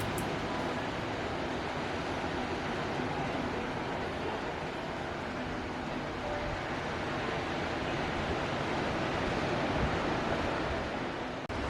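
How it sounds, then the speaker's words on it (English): Ocean surf roars on a beach in a dense, continuous wash of crashing waves, loud and steady throughout, with no talking. "The waves are roaring. They are so loud."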